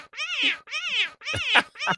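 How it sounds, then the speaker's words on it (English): A small kitty cat meows four times in quick succession, each call clear and close, with short pauses between them and no other sounds. "It just warms my heart to hear a little kitty cat."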